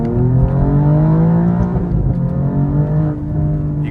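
A 2024 Alfa Romeo Giulia Quadrifoglio engine accelerating with crisp downshifts, heard from inside the car; steady loud drone with pitch rising and falling through several gear changes, no talking.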